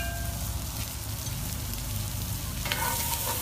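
Shallots and mushrooms frying in the skillet used for steaks at a backcountry cook, making a continuous dense sizzle like rain on a hard surface, with a sharper burst of crackling near the end and no talking.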